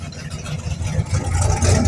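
A Mopar GTX muscle car runs its engine at a Holley MoParty car show, a loud, rough low rumble that swells toward the end as the engine revs.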